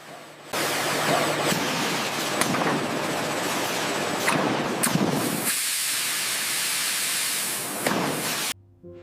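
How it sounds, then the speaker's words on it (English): Steam pressing of recycled T-shirts gives a loud, continuous hissing blast that runs for about eight seconds, shifting slightly midway, then cuts off abruptly. "Steam pressing gives the shirts a crisp, retail-ready finish."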